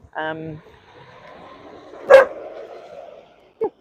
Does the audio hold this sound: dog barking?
yes